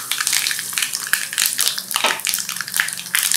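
Mustard seeds, cumin and asafoetida sizzle and crackle steadily in hot oil for a dal tempering, a loud, close, continuous frying hiss with small pops throughout.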